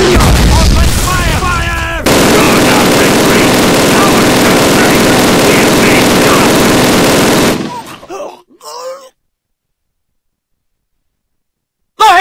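Call of Duty (the first game) battle scene: dense, loud sustained machine-gun and rifle fire roars continuously for several seconds, then breaks off into a few scattered shots and falls to silence, with a voice shouting early on.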